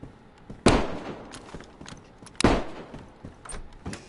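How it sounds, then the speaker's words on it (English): Two sharp, loud gunshots about two seconds apart, each with a short ringing tail, then fainter pops at a distance. "That is multiple gunshots."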